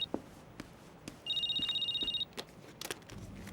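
A phone rings with an incoming call in a single electronic trill burst of about a second, set against a quiet room with a few faint clicks and taps.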